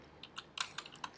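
Code being typed on a computer keyboard: a quick, close burst of about half a dozen crisp key clicks in an irregular rhythm.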